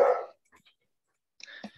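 A dog gives one short, fairly close bark, and a quieter bark or yelp follows about a second later, with near silence between them.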